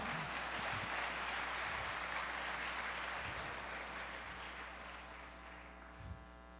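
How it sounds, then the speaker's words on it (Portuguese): A church congregation claps together in a dense wash of applause over a low electrical hum, loud at first and slowly tapering off. "Aplauda, gente."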